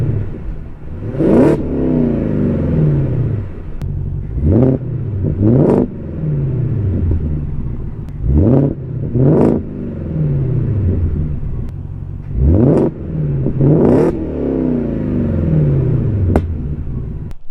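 A Ford F150 Raptor R in quiet exhaust mode revs up repeatedly. Each short rising blip falls back to a muffled, rumbling idle, close and fairly loud, with about eight revs in pairs and singles and no talking.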